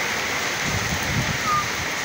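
Hail mixed with heavy rain comes down in Istanbul, a dense, steady hiss of falling water and pelting with no break and no speech.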